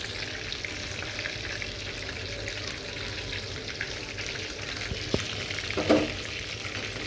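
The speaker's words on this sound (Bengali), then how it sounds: "আমার মুরগিটা একটু হবে ভাজা, একদম মচমচ হয়ে গেছে" Chicken pieces deep-frying crisply in hot oil, a close steady sizzle and crackle with a few sharper pops and a stir near the end, no talk.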